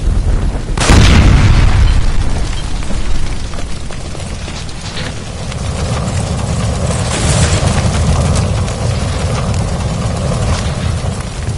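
A gas line blows up in the video game L.A. Noire: one loud, close boom near the start, then a long rumbling roar of fire and debris that stays dense and heavy to the end.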